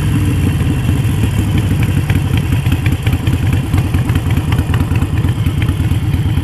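A 2019 Harley-Davidson Iron 883 converted to 1200 cc rumbles loudly and steadily while riding at speed, its deep uneven V-twin beat sounding strained and continuous throughout.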